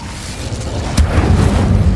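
A spell strikes in the Hogwarts Legacy video game: one sharp burst lands near the midpoint, followed by a low, rumbling boom. There is no talk over it.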